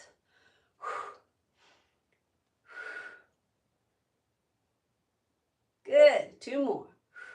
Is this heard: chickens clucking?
no